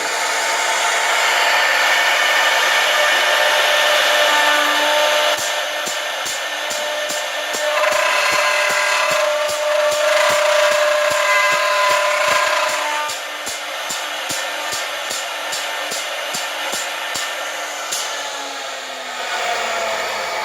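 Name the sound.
door light cut-out machine motor running with oscillation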